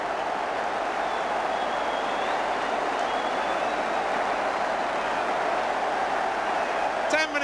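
A football crowd at Leeds United versus Southampton applauds Tony Currie's goal, a steady, dense roar of clapping and cheering that holds unbroken from start to finish on an old, hissy recording.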